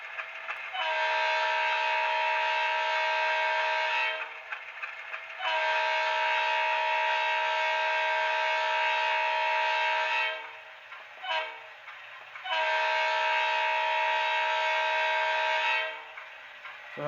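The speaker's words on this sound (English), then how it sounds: "let's go ahead and listen to a grade crossing sequence" An HO scale Rivarossi U25C locomotive with an ESU LokSound decoder sounds a grade crossing horn sequence: two long blasts, a brief short toot, then a final long blast, loud and clear with no talking.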